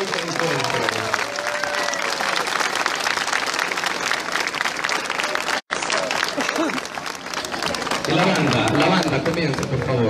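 Lively applause as two parish Lenten processions meet in Comayagüela, with dense clapping and crowd chatter mixed with voices, a brief dropout midway, then a fuller burst of clapping.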